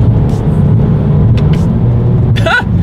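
A 2020 Toyota Corolla with a CVT accelerates with a loud, steady engine drone while being shifted with paddle shifters, the pitch briefly rising near the end.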